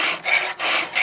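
A file rasps across the teeth of a chainsaw chain in three steady back-and-forth strokes, close and loud, with no talking.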